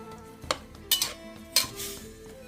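Beef being stir-fried in a pan until dry for a Thai panang dish, with a few distinct metal spatula scrapes and clanks against the pan over a faint background, no talk.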